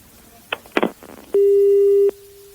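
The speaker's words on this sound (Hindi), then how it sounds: "तो जावेद रशीद ने फिर से फोन काट दिया है" A telephone busy signal sounds after a call is cut off, with a few soft clicks and rustles first, then one clear sustained tone lasting under a second before a faint trailing hum.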